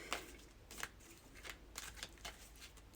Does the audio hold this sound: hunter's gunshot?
no